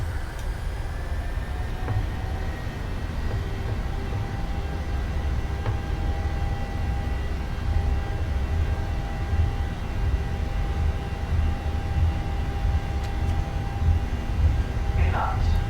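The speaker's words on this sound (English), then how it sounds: "Set takeoff thrust." Twin turbofan engines of a Boeing 737-800 spool to takeoff thrust on the runway, a steady loud broadband roar with low rumble and a thin whine, heard from the flight deck with faint cockpit talk.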